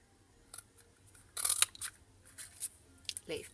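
A small craft paper punch stamping out leaf shapes, heard as a few crisp, close clicks and snaps with a louder cluster of punching in the middle, no talking.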